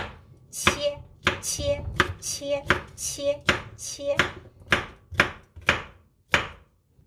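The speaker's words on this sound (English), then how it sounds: "cut this cucumber like this size" A knife chops cucumber on a cutting board in about a dozen sharp, evenly spaced thunks, close and loud, with short pauses between strokes and no voices.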